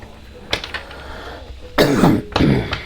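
A person with a mild flu coughs, a faint catch near the start followed by two louder, harsh coughs close to the listener with no talking.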